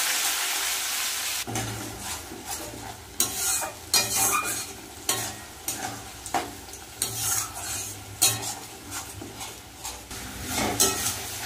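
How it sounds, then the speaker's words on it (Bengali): Whole spices hit hot oil in a pan for a loud, steady crackling sizzle, with repeated stirring scrapes and clinks of a utensil at an uneven rhythm over the top. "তেল কিন্তু হয়ে গেছে গরম, এবার দিয়ে দেবো মশলাটা।"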